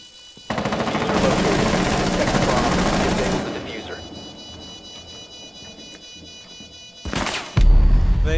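Heavy gunfire in Rainbow Six Siege on the Chalet map, a loud sustained burst followed by a quieter stretch and then another sharp blast, with voices talking over it.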